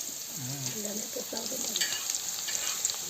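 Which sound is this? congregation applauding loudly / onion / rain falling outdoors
onion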